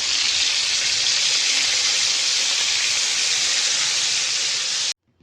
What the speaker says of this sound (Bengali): মাছগুলো এক পাশে ভাজা হয়ে গেছে